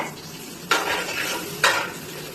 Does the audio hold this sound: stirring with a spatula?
yes